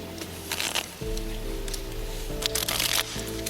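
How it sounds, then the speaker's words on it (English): Playing cards riffle-shuffled up close, a quick fluttering burst of card edges, then a second riffle over a low hum. "just give him a riffle shuffle."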